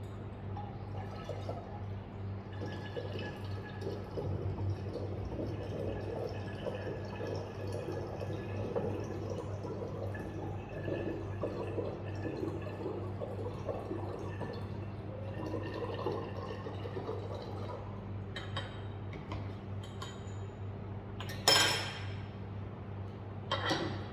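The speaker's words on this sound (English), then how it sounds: "we have to use more deionized water to fill it to the 1000 ml mark" Deionized water pours and trickles into a flask to the 1000 ml mark in a lab, a continuous close gurgling fill lasting many seconds, ending with a brief clink of glass.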